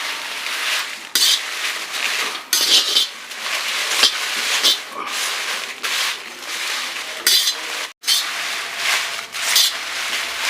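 Dry red chillies, about a kilo, roasted and stirred in a pan, with repeated metallic scraping and clinking of a spoon against the pan that comes in close bursts with brief pauses.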